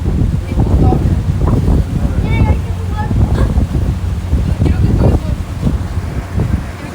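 Wind rushing over an open water taxi in Tampa, buffeting the microphone in a constant loud roar with the low churn of water and the boat beneath, and a voice faintly mixed in.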